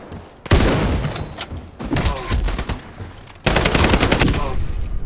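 Rapid automatic gunfire bursts from the online shooter game Ironsight during a gun game match, loud and dense, with sharp volleys that stop and restart, running almost continuously with a brief lull near the start.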